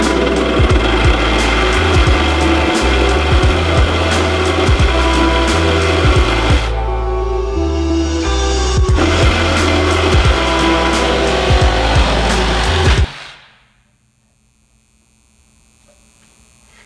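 A power saw cuts through the steel frame rails of a Mitsubishi Eclipse, a loud rough grinding with a rhythmic low pulsing, pausing briefly midway, then stopping abruptly into near silence.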